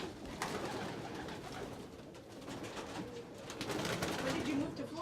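Several pigeons kept by a Florida fancier coo softly and repeatedly nearby, with low murmuring talk in the background.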